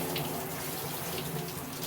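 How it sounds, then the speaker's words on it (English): Water runs steadily from a tap over purple-dyed dreadlocks, a constant close hiss and splash that doesn't let up. "Here's the rinsing part."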